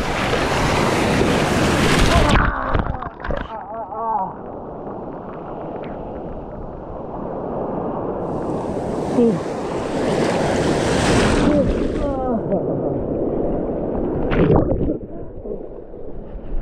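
Ocean waves surge and crash close by with loud wind buffeting the microphone, rising and falling in broad washes throughout, with a few faint voices in between.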